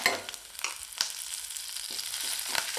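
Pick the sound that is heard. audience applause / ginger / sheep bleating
ginger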